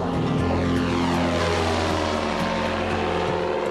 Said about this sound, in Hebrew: מנוע נפתח